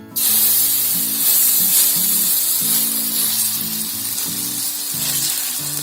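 Bottle gourd pancake batter sizzles and hisses steadily on a hot oiled griddle, a loud continuous frying sound close up with no talk over it.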